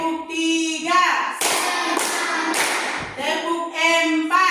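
A class of madrasah students joins in a rhythmic clapping game, bursts of loud group clapping alternating with a voice calling out between rounds, close and energetic in a classroom.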